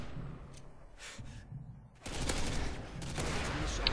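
Rapid bursts of gunfire from Modern Warfare 2 multiplayer on the Derail map, a single shot early on, then dense automatic fire that grows louder after a short lull and keeps going to the end.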